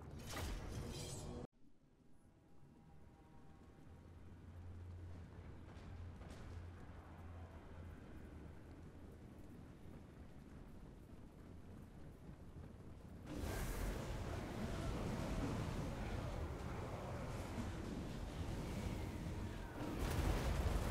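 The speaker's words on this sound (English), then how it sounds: "Already a little magical bombardment going on." Magical bombardment in Total War: Warhammer 2 Mortal Empires battle, a dense rumbling wash of distant blasts and crackling impacts that swells louder partway through, with no speech.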